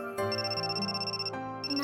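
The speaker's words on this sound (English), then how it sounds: "Oh right, your phone was ringing, wasn't it? Is it still ringing?" Phone ringing in a video game: a steady electronic ringtone with layered sustained tones and a brief break in the pattern, fairly loud with no talk over it.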